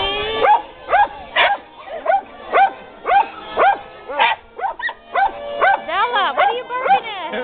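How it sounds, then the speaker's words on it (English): A dog at a reindog parade in Cincinnati gives a rapid run of high-pitched barks and yips, close and loud, in a steady repeating rhythm with short gaps between them. "what are you barking at?"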